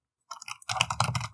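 Computer keyboard typed on at a desk during coding work, a short burst of quick close key clicks following a brief silence, fairly quiet with no talk.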